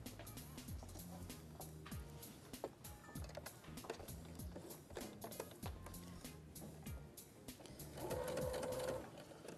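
A sewing machine stitching patchwork runs in a steady rapid rattle of needle strokes, close and continuous, with a brief louder whirring burst near the end.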